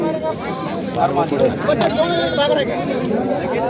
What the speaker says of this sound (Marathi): या ठिकाणी पाहू शकता बारकी मेंढीची पिले आहेत